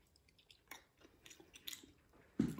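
Someone chewing and tasting cow's milk mozzarella, soft close-up mouth sounds and squishy bites scattered across a quiet moment, ending in a louder chomp.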